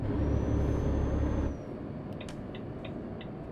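Truck in Euro Truck Simulator 2 with brakes locked going downhill: a loud steady engine and brake roar that drops sharply partway, followed by a quieter rumble with a few short hissing bursts.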